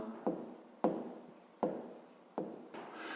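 Handwriting with a pen during a fifth-grade maths exercise comes as four quiet, close scratchy strokes, each starting sharply and trailing off, spaced about a second apart.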